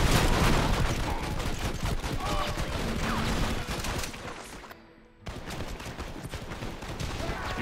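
Rapid gunfire during a multiplayer showdown in the video game Red Dead Redemption, loud and continuous with overlapping shots, a brief near-silent gap, then more sustained firing.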